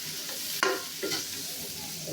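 Steady hiss of chicken roast frying in oil throughout, with a couple of sharper scraping stirs in a pan.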